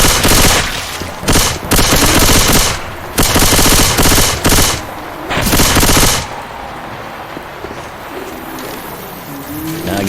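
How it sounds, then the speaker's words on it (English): Loud bursts of machine gun fire from the video game Left 4 Dead 2, several long rapid volleys separated by short pauses before the shooting stops and quieter game ambience remains. "it's a machine gun"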